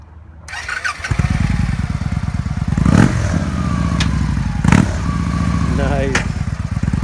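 A used 2014 Victory Vegas 8-Ball cruiser with a 106ci V-twin starts up after a second, then settles into a loud, close, lumpy idle with a couple of blips, while a voice talks over it.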